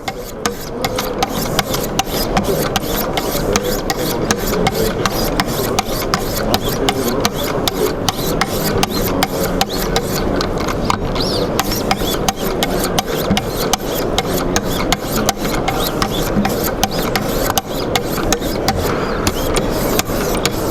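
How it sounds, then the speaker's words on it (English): A Wicked Edge guided sharpener's stone is drawn repeatedly over a knife blade, a close, continuous rasping scrape with a rapid rhythmic stroke pattern, no voices. "we are simply doing is guiding the stone over the knife"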